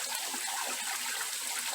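Water running from small taps along a 25 mm garden irrigation pipe in a vegetable plot, a continuous soft trickling and splashing with no talk.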